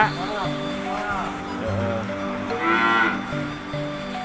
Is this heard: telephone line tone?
no